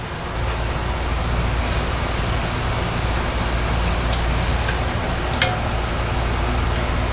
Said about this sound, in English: So now I'm going to take my mozzarella risotto balls and dip them into my frying oil